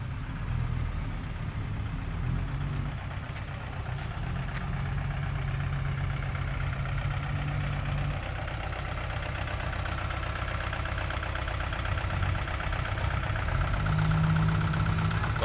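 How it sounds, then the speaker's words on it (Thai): Kubota tractors, models L4708SP and L4508DI, idle with a low, steady engine rumble that holds level throughout, close by and moderately loud, with no talking. "รถไถคูโบต้าทั้งคู่นะครับคันนี้ L4708SP ส่วนคันนี้ L4508DI ครับ"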